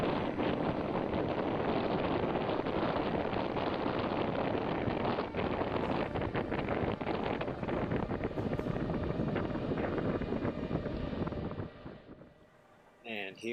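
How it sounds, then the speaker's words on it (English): Strong wind buffets an outdoor microphone on a windy day at a knife cutting test on bottles, a loud continuous roar that fills the whole clip before easing off near the end. "windy day, lots of noise up there"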